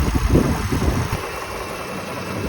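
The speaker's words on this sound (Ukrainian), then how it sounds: "І так працює мотор." A 2011 Toyota Highlander engine idles steadily and quietly, a low even rumble that swells slightly in the first second then settles into a smooth, constant hum.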